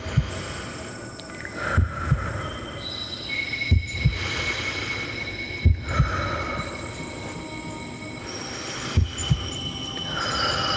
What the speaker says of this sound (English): slowly, only the sound of your heartbeat and breath